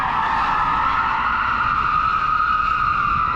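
A Nissan 350Z does a burnout, its tires skidding in one loud, continuous screech with the engine roaring underneath, close and steady throughout without any talk.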